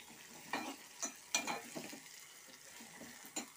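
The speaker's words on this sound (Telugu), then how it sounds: "తాలింపు ఇప్పుడే వేగుతుంటేనే మంచి వాసన అయితే వస్తుంది." Spices for a tempering sizzle and crackle in hot oil in a pan while dal soup is being made, with sparse pops and short bursts of frying close to the microphone and no talking.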